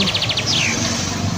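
A colorful bird chirps close by in a quick series of about six sharp, high tweets, then gives a longer sliding call, all over a steady background hiss.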